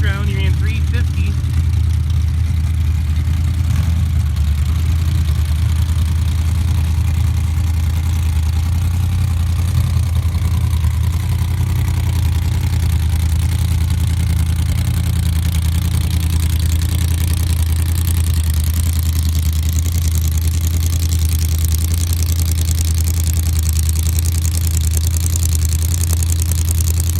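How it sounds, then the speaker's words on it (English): Drag-racing Jeeps sit idling at the start line of a pro bracket event, a loud, constant low engine rumble that runs throughout beneath a commentator's voice. "Very good running Jeeps here."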